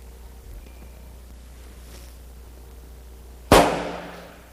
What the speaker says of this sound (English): The friction primer acted like a giant kitchen match and set off the propelling charge.